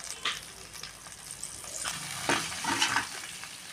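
Tomatoes sautéing with salt and turmeric in a pan for a Bengali fish gravy, giving a steady soft sizzle with brief louder bursts of spattering and stirring, close and alone without talk.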